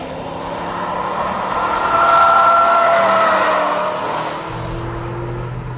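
A 2004 Ford Mustang Mach 1 laps a road course at the Ultimate Mustang Shootout, its engine a steady, loud drone that swells briefly mid-run before settling again, with no talking.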